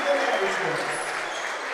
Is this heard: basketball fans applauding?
yes